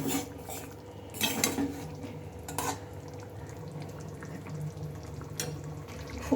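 Cooked cauliflower dhoka pieces are gently mixed in a pan, with a few soft scrapes and clinks of the spoon spread over a quiet, low background hum.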